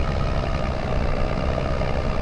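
Small one-seat tractor engine from the Farming Simulator 25 game, a steady low rumbling drone that holds constant and fairly loud throughout, with no talk over it.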